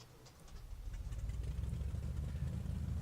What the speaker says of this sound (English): it fires up, and the engine sound is absolutely incredible